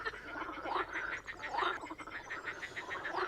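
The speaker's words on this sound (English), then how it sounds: "A lot of frogs though." Many frogs croak at night at Elmley Nature Reserve, a dense chorus of overlapping rasping calls repeating steadily and close, with no voices.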